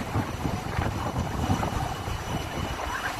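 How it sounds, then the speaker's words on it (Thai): Strong wind buffets the microphone on a beach at Koh Lanta, a loud, continuous low roar and rumble with no pauses. "แต่ว่าอุ้ยลมแรงจะไปแล้วค่ะ"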